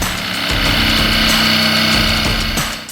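A power tool cuts and grinds loudly and close at a 1998 Jeep Cherokee XJ's front fenders, trimming them for tire clearance on a 4.5-inch lift, a continuous rasping whine that briefly wavers before easing off.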